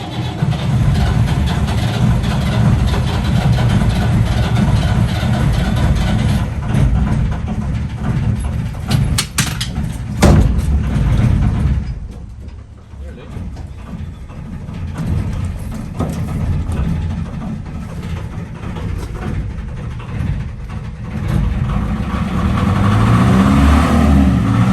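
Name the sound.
narrowboat engine starting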